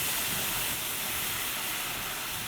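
Sherry sizzling in a hot pan of melting butter, a steady, loud broadband hiss and crackle that stays even from start to finish with no talking over it.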